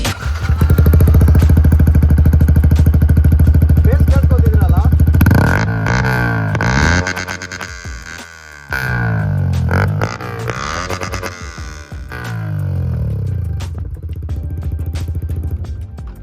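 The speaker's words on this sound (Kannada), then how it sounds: "ಎಕ್ಸಾಸ್ಟ್ ನೋಡಿ ಕೇಳಿಸ್ತೀನಿ ನೋಡಿ ಒಂದ್ಸರಿ." A Yamaha R15 V4 with an Akrapovic full-system exhaust revs hard and close, a sustained high roar for several seconds that drops, then repeated throttle blips and rising revs with brief pauses between them.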